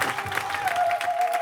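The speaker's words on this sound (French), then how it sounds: "On donne encore une acclamation" Brief burst of congregational clapping in a church, steady and fairly loud, with a sustained held tone running underneath.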